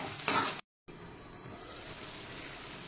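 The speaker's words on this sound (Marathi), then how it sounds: "आता ही चांगली 5 ते 10 मिनिटं आपण भाजून घ्यायचंय। त्याला जोपर्यंत तेल सुटत नाही बाजूने तोपर्यंत भाजून घ्यायचं आहे।" Matar paneer gravy roasting in oil, a faint continuous sizzle and frying hiss with a brief louder burst of stirring at the start, then a short full dropout before the quiet sizzle resumes alone.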